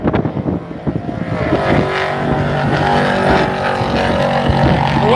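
Two drag racing cars, a Camaro and a Chevy station wagon, roar loudly off the line together, a dense engine howl with rising pitch that holds through the launch.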